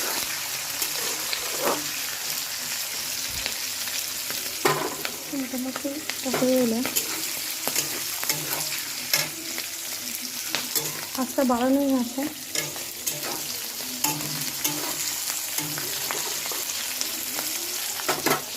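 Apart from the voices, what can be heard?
frying black gram dal, panch phoron, garlic and green chilies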